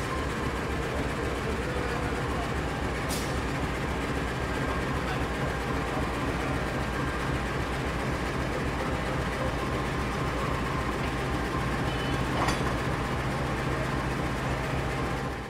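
A CC201 diesel locomotive hauling the Progo economy train from Yogyakarta to Jakarta, with a steady, loud, continuous low rumble and rolling noise throughout. A brief sharp click sounds twice.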